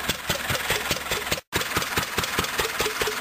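A 1930 Fairbanks Morse engine, a small stationary Z model, chugs in a steady rhythmic beat of evenly spaced pulses, close and loud, with a brief cut midway.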